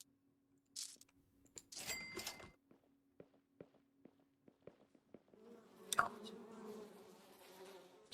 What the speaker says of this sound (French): Ce bruit des mouches là.